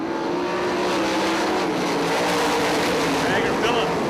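410 sprint cars racing on the 34 Raceway dirt oval during a B-Main heat, engines roaring steadily and loud throughout, with a race announcer talking over the constant drone.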